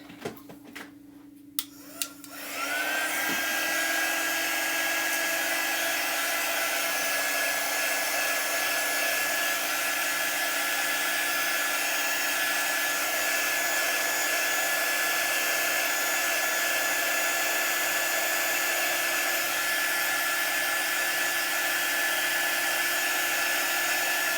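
A hair dryer drying a chalk paste design, clicking on after a few handling noises and then running steadily and loudly on its continuous whirring blow for the rest of the clip, with no talking.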